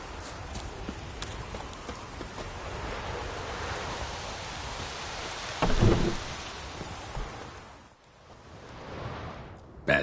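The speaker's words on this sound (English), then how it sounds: "Let it rain." Rain falls steadily in a video game, a soft constant hiss with a low rumble of thunder midway, fairly faint with no speech.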